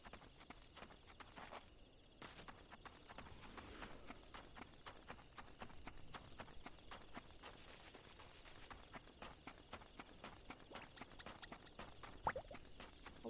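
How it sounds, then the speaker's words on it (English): Footsteps walking through the North Shroud woods in Final Fantasy XIV, a steady rhythm of soft clip-clop steps over a quiet, peaceful forest ambience, with no talking. "just listening to my footsteps through the woods"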